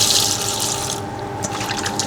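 Running tap water pours into a sink for washing prawns, a steady close splashing rush that eases slightly halfway through, with light trickles and drips continuing alone.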